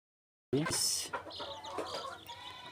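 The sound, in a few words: Fayoumi chicken chicks cheeping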